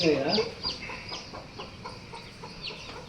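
A hen with newly hatched black chicks clucks in a few short, soft calls at close range, with faint chirping and a low, quiet background.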